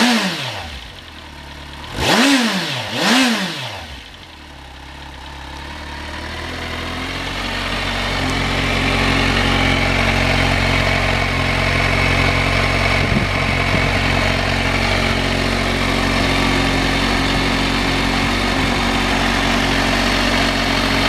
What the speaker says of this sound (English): just a brief walk around and start up of our Kawasaki Versys 1000